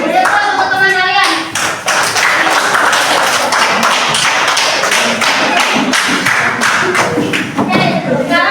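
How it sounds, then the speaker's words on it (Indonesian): Students in a multi-grade classroom clapping their hands, a run of loud, sharp claps in a quick rhythm close by, with a brief pause and some voices underneath. "Tepuk tangan. Beri aplaus untuk teman kalian."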